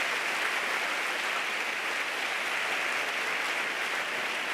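At the Girona literary prize ceremony, a hall audience applauds prize winner David Nel·lo with continuous, even, dense clapping from a large crowd for the whole stretch.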